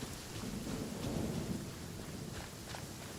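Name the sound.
thunderstorm and rain in video game Genshin Impact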